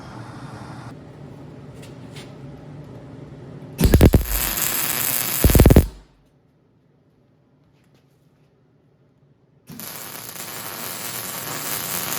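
Tack welding on a hinge for a 1927 Ford tailgate: two loud bursts of crackling arc, each a couple of seconds long, then near silence, then the steady buzz resumes.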